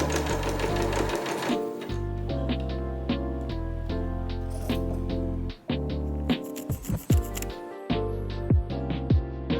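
A sewing machine stitches the lining into a crocheted messenger bag, running in close, rapid bursts with brief pauses between runs and no talk.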